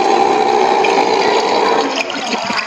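A recorded platypus call plays from a zoo sound button in Hobart, Tasmania, a steady mechanical-sounding whirring buzz that carries loud and continuous throughout.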